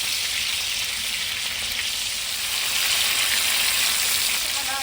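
Minced garlic and onion sizzle steadily in hot oil in a pan while being stirred, a continuous close frying hiss without pause.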